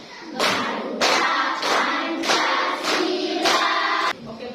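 A class of children claps hands in time while singing the Indonesian patriotic song Garuda Pancasila, with bursts of steady rhythmic clapping that repeat over the singing and briefly pause between phrases.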